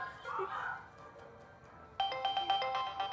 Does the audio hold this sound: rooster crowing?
no